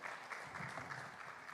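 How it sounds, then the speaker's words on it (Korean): Audience applause after a presentation at the World Ocean Forum, a dense steady clapping that stays fairly soft and slightly distant throughout, with no voices. "발표해 주신 세 분 발표자분께 다시 한번 큰 박수 부탁드려도 될까요?"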